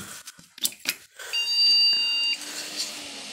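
A repaired PC power supply gives a steady electronic beep for about a second after some clicks and rustling handling noises, then cuts off, leaving a faint hum.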